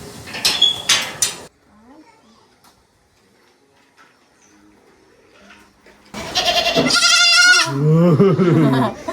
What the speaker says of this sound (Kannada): ಎಷ್ಟೊಂದು ಮೇಕೆ ಇದೆ.